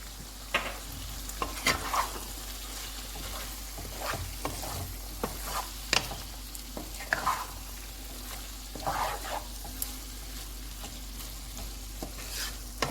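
Okra masala being stirred in a pan, with repeated scraping and clattering strokes of a spoon over a low steady sizzle, close up and continuous.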